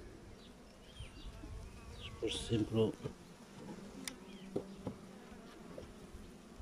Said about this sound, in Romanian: Albina.